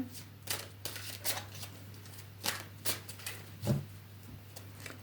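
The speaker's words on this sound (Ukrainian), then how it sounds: "Так, витягуємо ще для вас карти." Soft papery riffles and slaps of tarot cards being shuffled and drawn, in irregular bursts over a low steady hum.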